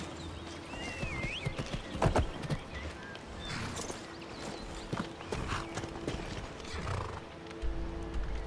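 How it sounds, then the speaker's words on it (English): A video game horse clip-clops with irregular hoofbeats and an occasional whinny, moderately close amid other game ambience and scattered clanks. "Here, I wanna move my horse a little bit closer."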